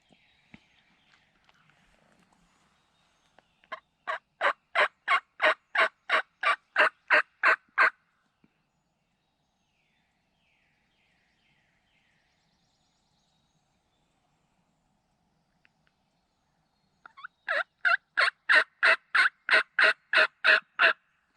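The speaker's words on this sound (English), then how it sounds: "I just heard a hen." A wild turkey gobbles in rapid bursts during a spring hunt in South Carolina, two loud clear runs of rhythmic calls separated by a long quiet gap in open woods.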